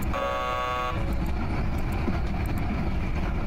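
Train riding noise from a Halloween visual novel game: a steady rumbling rail-car drone with a short tonal chime or horn at the start, continuous and moderately loud, no voices.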